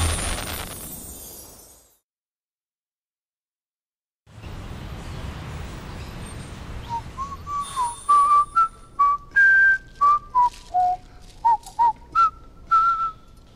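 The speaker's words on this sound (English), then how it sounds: "I'm whistling now." A person whistles a tune at a singing-competition audition, with a run of short, bright, clearly pitched notes following a brief noisy stretch and silence.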